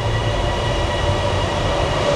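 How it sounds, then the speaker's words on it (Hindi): Airport Rail Link metro train in Bangkok pulling into the station, a steady loud rumble of wheels and motors with a faint high whine, continuous and close with no voices. "आ गई है भाई मेट्रो।"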